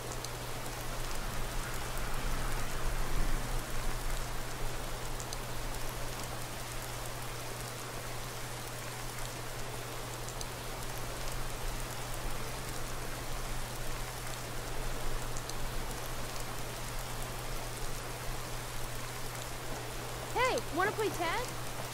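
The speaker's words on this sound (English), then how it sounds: "Dude, it's raining." Steady rain hisses throughout a stretch of the Skyrim video game, a soft, even downpour with a low constant hum beneath it and a faint voice near the end.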